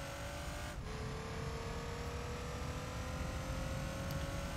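A race car in Gran Turismo 3 accelerates hard, its engine note dropping at an early upshift, then climbing steadily and loudly without interruption; no one talks.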